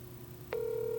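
An outgoing phone call to an AI sales agent starts ringing: a steady electronic ringback tone switches on halfway through and holds loud and even over faint background hiss.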